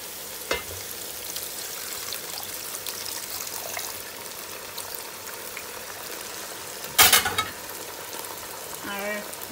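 Water goes into a pan of country chicken curry with potatoes, over a continuous close sizzle and bubbling, with a sharp splashing burst near the end and a brief clatter after. No talk.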